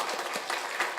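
Church congregation clapping at a Sunday service after a baptism, a short burst of dense, steady applause from many hands filling the room.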